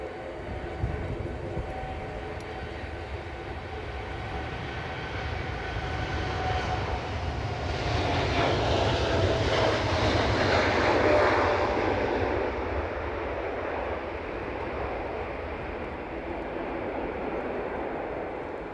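Qatar Airways Boeing Dreamliner jet taking off at Edinburgh Airport, a distant engine roar that swells toward the middle and then slowly fades, with a low rumble throughout.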